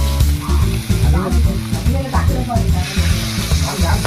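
A crab curry bubbles and sizzles vigorously in a pot on a wood-fired clay stove. The close, continuous boiling runs beneath someone talking throughout.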